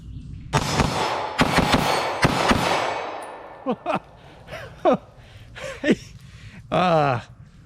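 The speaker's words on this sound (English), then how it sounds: "first shots of the day with my custom DWX Compact" Sharp pistol shots from a custom ported DWX Compact handgun with Vytal grips at a shooting range, three close reports in quick succession followed by fainter pops, with a person talking between them.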